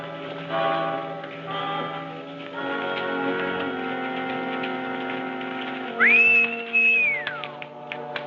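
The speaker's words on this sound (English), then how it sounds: "Stop whistling for that horse." A person whistles to call a horse in an old Western setting: a clear rising and falling whistle heard twice near the end, over background music and ambience.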